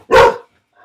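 A single sharp, loud bark from a pet dog close by, followed by a faint trailing whimper-like tail and then quiet.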